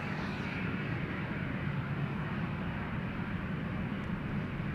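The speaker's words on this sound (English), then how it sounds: "That was KLM flight 641, the 787-10 Dreamliner, already making its way over to the threshold." A KLM Boeing 787-10 Dreamliner taxis toward the runway threshold at Amsterdam Schiphol Airport, giving off a steady, even engine rumble and hiss from some distance, alone and fairly soft.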